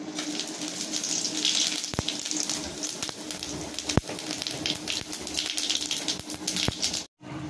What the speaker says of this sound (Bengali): এবার আমি জিরে আর শুকনো লঙ্কা ফোড়ন দিয়ে দিচ্ছি